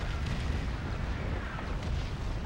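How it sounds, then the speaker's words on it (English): Artillery shelling in Call of Duty 2 rumbles as a dense, continuous barrage of deep booms and blasts, heavy and sustained throughout with no voices. "that has to be the most scarily accurate shelling I've ever seen"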